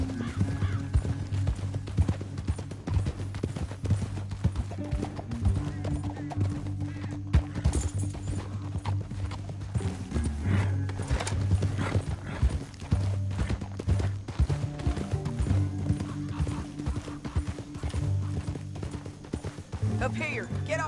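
Horse hooves trot in a steady clip-clop rhythm in the video game Red Dead Redemption 2, close and continuous, under voices and a droning musical backdrop.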